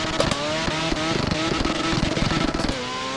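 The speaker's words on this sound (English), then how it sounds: "I can't even hear the damn song over this damn engine" A car engine roars steadily in the No Hesi highway driving game, loud and sustained with rising rev tones and faint music underneath.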